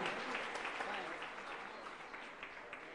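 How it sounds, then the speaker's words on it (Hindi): Loud, continuous applause from a congregation at a Jain religious gathering with Muni Sudha Sagar Ji, dense clapping holding steady throughout with no talk over it. "जोरदार तालियां"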